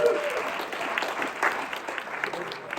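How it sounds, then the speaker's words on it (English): A room full of people at a conference in Las Vegas applauds, steady clapping rising and fading slightly throughout. "One more round of applause"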